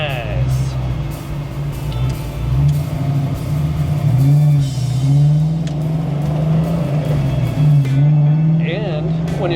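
A Ford Mustang Fox body fitted with a GM idle air control valve hums with a steady low engine drone while a person talks over it throughout.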